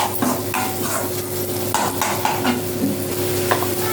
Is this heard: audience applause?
no